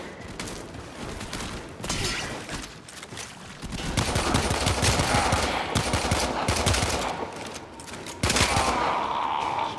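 Rapid automatic gunfire in the sci-fi shooter Warframe, bursts of loud clattering shots with short pauses between volleys, sustained and close throughout.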